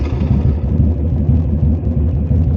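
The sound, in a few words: 2005 Victory Hammer motorcycle engine started and running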